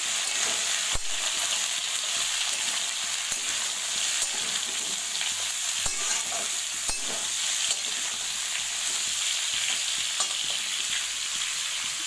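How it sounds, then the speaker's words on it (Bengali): Pumpkin, potato and eggplant fry in a pan for a vegetarian chorchori, giving a steady, fairly soft sizzle broken by occasional sharp scrapes and knocks of the stirring spoon, with no talking. "কুমড়োগুলো দিয়ে এটা নাড়াচাড়া করে নেবো।"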